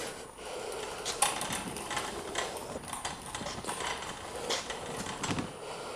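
A Kern-Stabi bike mover swivels a motorcycle on its stand, giving a steady run of light mechanical clicks and ratcheting knocks, with a few sharper clunks, heard close up and on its own.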